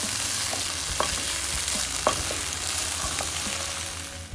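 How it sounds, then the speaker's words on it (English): Okra (bhindi) sautéing in a kadhai gives a steady, close sizzle with intermittent clinks and scrapes of stirring, fairly loud and without speech. "time to saute. Just keep for 5 minutes and then you can keep this bhindi aside."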